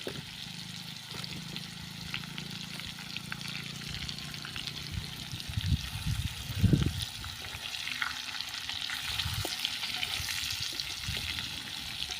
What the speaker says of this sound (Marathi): आपण ही जी कारली आहेत ती टाकणार आहोत आता छानपैकी थोडीशी परतून घेऊया